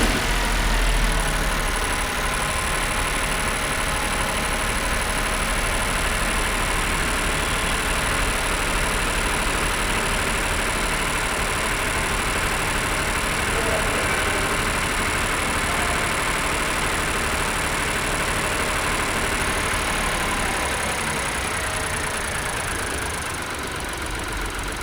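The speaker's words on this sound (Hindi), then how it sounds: "तो चलिए स्टार्ट करते हैं इंजन एंड सुनते हैं इंजन साउंड" A 2026 Citroën Basalt X car engine idles steadily at close range, a constant smooth hum with a faint high whine and no speech over it.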